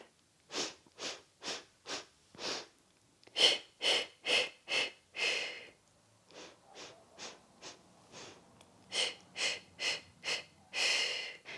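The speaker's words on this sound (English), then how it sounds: "Take small breaths so you've got space. We're going to inhale 2, 3, 4, 5 and exhale 2, 3, 4, 5." Pulsed breathing during the Pilates hundred exercise: a run of short, sharp breaths through the nose and mouth, repeated in quick even counts with brief pauses between sets, close and clear.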